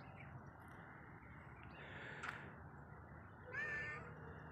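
Against a low outdoor rumble, a cat gives a couple of faint, short meows, the clearer one near the end.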